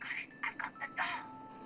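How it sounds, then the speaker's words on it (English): A telephone being dialed indoors, heard as a quick series of four or five short tonal beeps with brief gaps, followed by a faint steady tone, fairly quiet with no talking. "She calls Mike, trustingly, to inform him she's found the doll"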